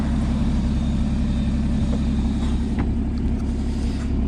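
A Porsche 981 Boxster S with GTS spec idles on its 3.4-litre flat-six, giving a steady, even low rumble close by with no talking over it.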